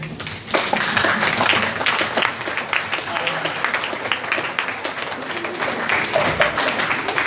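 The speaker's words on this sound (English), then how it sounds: "give your teachers here a round of applause" Audience at a weekly house meeting applauding teachers, a sustained run of many hands clapping, loud and near, with voices audible among the claps.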